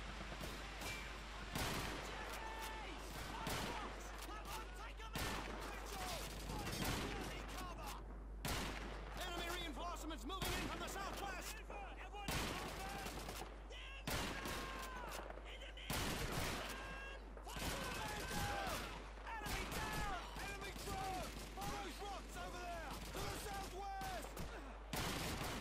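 Rapid bursts of gunfire from World War II battle in Call of Duty 2, with repeated rifle and machine-gun shots crackling throughout, dense and loud, with someone talking over the shooting.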